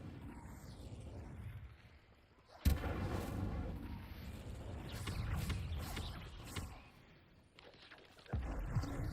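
Incendio fire spell cast in a magic video game, a sudden loud burst of flame with a crackling, roaring whoosh that swells, fades, then flares again near the end.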